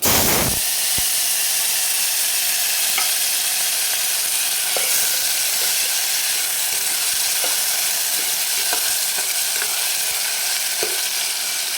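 Asafoetida, curry leaves and tomato hit hot oil in a kadhai, setting off a loud, continuous close sizzle and hiss with occasional ticks and pops throughout.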